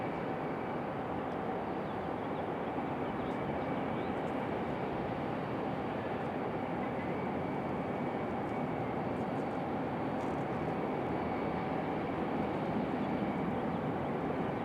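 Sun Country airliner moving on the ground at Raleigh-Durham airport, a faint, steady, broadband engine rumble at a distance, unbroken throughout with no talk.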